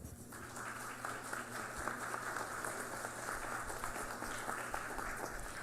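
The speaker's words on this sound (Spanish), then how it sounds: "os acompaña la doctora María Marván Laborde, a quienes recibimos con un fuerte aplauso." Steady audience applause, many hands clapping continuously at a moderate distance for several seconds.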